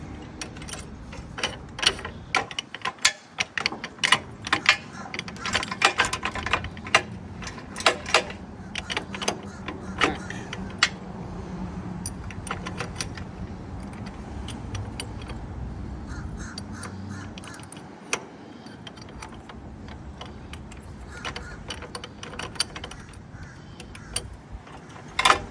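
A bolt on a boat lift lock arm is loosened with a tool that gives repeated sharp ratcheting clicks in bursts. Crows caw loudly nearby outdoors.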